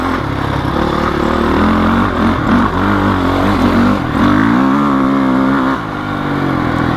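A 15-year-old Honda CRF450X dirt bike with upgrades revving and accelerating hard, a loud close engine roar with rising and falling pitch as the throttle opens, heard without talk.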